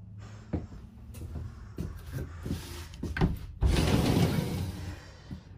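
A sliding barn door in a 2021 Salem Hemisphere Hyper-Lyte 24RLHL travel trailer being unsnapped and rolled shut over the bedroom, with wooden knocks and clicks and then a longer rumbling slide to a stop, close up.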